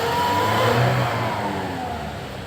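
Engine of a 2005 Toyota Innova revving steadily and loudly at close range, a sustained rising drone with sluggish, delayed throttle response; no voices.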